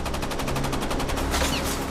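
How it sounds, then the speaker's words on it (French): U-boat anti-aircraft guns fire continuously in a rapid, evenly spaced burst of loud reports over a heavy rumbling background, dense and unbroken with no voices. "Les canons du U-boat crachent sans discontinuer."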